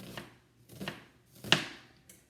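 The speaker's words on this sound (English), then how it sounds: "So I'm going to chop this up." A knife chops spinach-dip ingredients on a cutting board, four separate strikes spaced roughly half a second apart, fairly quiet and close, with no talking.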